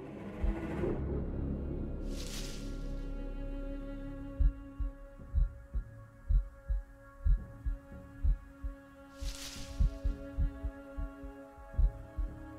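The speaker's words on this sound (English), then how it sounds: "I hear the heart beating. Gotta hide." A slow, steady heartbeat thumps from Paper Lily, a horror game, with low repeated pulses over a sustained eerie hum and two brief airy swells, no one speaking.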